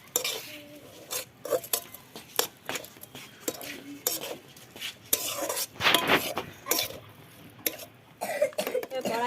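Butter being stirred in a pan while making momo soup, with irregular scraping and clinks of a utensil against the pan over a faint sizzle, mixed with coughs and throat clearing.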